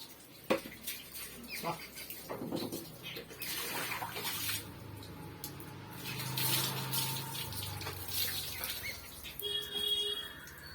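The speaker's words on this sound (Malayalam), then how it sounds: "ബക്കറ്റ് നിറഞ്ഞ് വെള്ളം പോകുന്നു" Water overflows from a full bucket under a running tap, a continuous splashing trickle, with voices speaking at intervals and a few birds and clinks around it.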